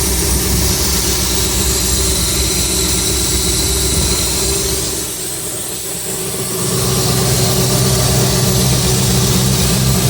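A 1961 Buick LeSabre convertible's original 364 Wildcat V8 with a single carburetor idles steadily and close by, a smooth continuous rumble that dips briefly midway before settling back to an even idle.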